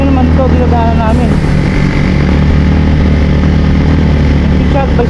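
A motorcycle engine roars loudly and steadily up close, with a strained, labored hum as it climbs a steep road to Aw-Asen Falls, and voices are faintly audible under it.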